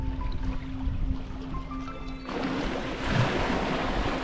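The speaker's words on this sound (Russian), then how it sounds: "Проехал катер, такие волны пришли." Waves wash in after a motorboat passes on the Black Sea off a beach at Anapa, a steady close surf roar that swells louder partway through, with wind buffeting the microphone and no voices.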